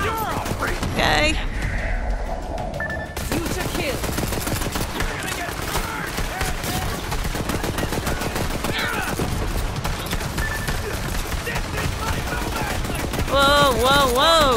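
Gunfire in the Borderlands 3 video game crackles in dense, sustained bursts like machine-gun fire, loud and continuous across the whole stretch, mixed with game effects and a brief electronic warble near the end.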